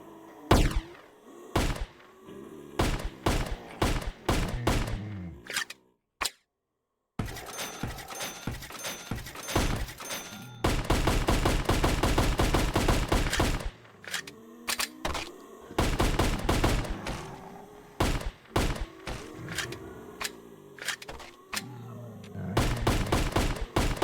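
Gunfire in VRChat, with rapid bursts of sharp shots and dense volleys coming close and loud, broken by a brief silent pause near the start, then long stretches of continuous firing.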